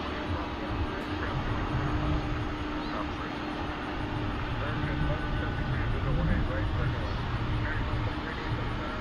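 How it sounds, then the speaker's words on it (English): An MD-11 airliner at DFW International Airport produces a steady, broad jet-engine roar, continuous and fairly loud throughout, with people talking over it. "There is the MD-11 headed to Philly."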